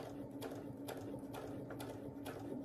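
A home sewing machine runs a loose three-millimetre straight stitch through jacket fabric, a faint, steady mechanical hum with regular needle ticks repeating evenly throughout.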